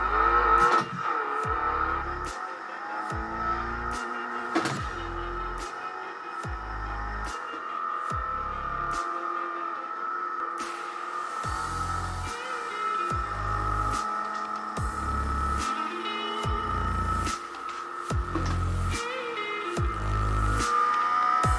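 A sim rig plays a video game of car street racing through Tokyo. Faint engine hum and steady tones run throughout, broken by repeated rhythmic low thumps and short clicks with no speech.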